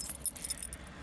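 A brief, bright jingle of Citroën 2CV car keys being handled, a few quick metallic clinks close by.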